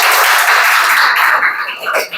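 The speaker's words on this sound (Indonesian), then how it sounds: "Tepuk tangan dulu untuk kelompok 1" Brief burst of classroom applause for a student group, a bright dense patter of many hands clapping up close that thins out toward the end.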